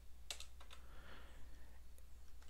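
Fast, light key clicks from typing on a computer keyboard come in a few brief irregular bursts with short gaps, close and quiet, with no speech.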